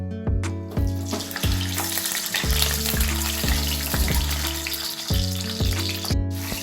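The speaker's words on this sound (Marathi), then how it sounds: "आता आपण ह्याच्यात अंडे फ्राय करणार आहेत" Eggs fry in hot oil in a kadai, a loud, close, crackling sizzle running continuously while a steady, repeating low tone pulses underneath; no voices.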